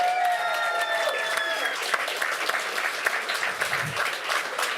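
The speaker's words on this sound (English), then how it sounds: "please, everyone give a big round of applause to Team Invictus." Sustained applause from a crowd at a LAN esports event, steady clapping throughout with a faint fading tone early on.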